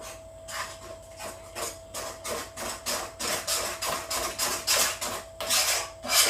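Muffin batter with chocolate cream being stirred in a bowl: steady repetitive scraping and slapping strokes in an even rhythm, close and fairly loud, with no talking.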